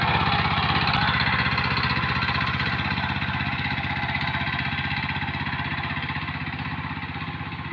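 A small mini tractor engine runs steadily nearby with a rapid, even chugging pulse and a gruff drone, holding constant before slowly easing slightly quieter.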